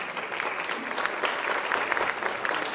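A room at a school board meeting breaks into steady applause, a moderately distant, even patter of many hands clapping without pause, with no voices standing out.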